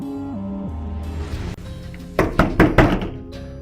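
Four loud, sharp knocks on a door land in quick succession near the end, following a low droning tone and a dull thump; no one speaks.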